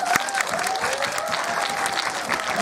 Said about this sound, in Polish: Słabe to oklaski.